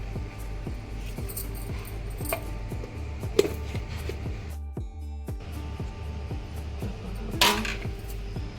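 A kitchen mixer grinder grinding Kitchen King masala spices to a fine powder, with a steady motor hum and rattling ticks of the spices. The whirring pauses briefly midway, then resumes.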